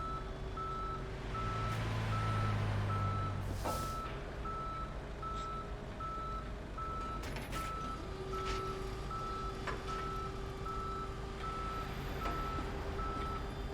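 A tow truck in the police game Police Simulator: Patrol Officers reverses with a steady, evenly spaced series of beeps over a low engine rumble, with an air-brake hiss and a few clanks along the way.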